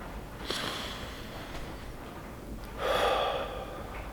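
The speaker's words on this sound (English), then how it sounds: "take a couple of nice deep breaths." Slow, deep breaths taken indoors during a calming exercise: soft airy inhales and exhales close to the mic, with one fuller, louder breath near the end and no talking.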